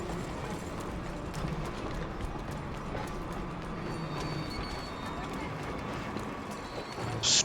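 Horse hooves clip-clop steadily in a Red Dead Redemption 2 game scene, mixed with dense ambient noise and a voice talking over it throughout.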